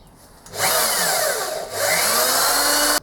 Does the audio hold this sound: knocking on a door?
no